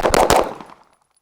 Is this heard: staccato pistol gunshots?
yes